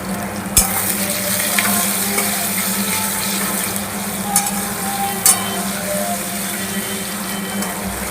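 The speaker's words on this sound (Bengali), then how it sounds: "লাল লাল করে ভেজে নেব আলুগুলো" Potato pieces fry in hot oil in a pan, giving a steady loud sizzle with occasional sharp clinks and scrapes of a spatula, and no voices.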